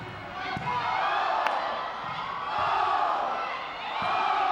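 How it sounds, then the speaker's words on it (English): A high school volleyball crowd cheering loudly in a gym, a sustained roar of voices and whoops with a few sharp bangs, close and full throughout. "And as you can tell, the crowd is going crazy."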